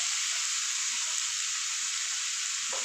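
Curry leaves frying in a hot pan, a steady bright sizzle with no pauses, close and fairly quiet, with no one talking.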